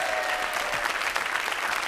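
A French game show studio audience applauds steadily and loudly, a dense wash of clapping hands that carries evenly throughout without pause or spoken voices.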